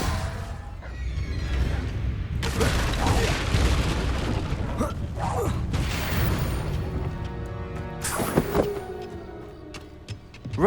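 A Confringo blasting spell explodes in Hogwarts Legacy on PS5 Pro, a dense booming burst amid layered game effects and music, with further sharp cracks and impacts later on.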